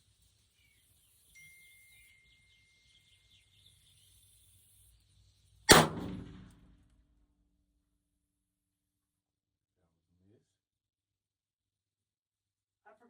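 A rifle fitted with a muzzle brake fires once at a steel target about 200 away, a single sharp loud blast that decays over about a second in otherwise quiet open air.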